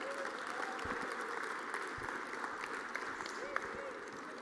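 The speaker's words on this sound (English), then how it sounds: "Ladies and gentlemen, a round of applause for your senior speaker," Audience applause fills a room at a university athletics award show, steady broadband clapping with faint voices and tonal sounds underneath, moderately quiet and continuous throughout.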